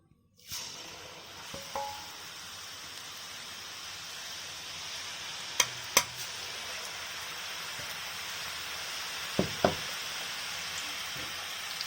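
Ragi (finger millet) murukku dough frying in hot oil, giving a steady soft crackling hiss with a few sharper pops scattered through, close by and with no talking.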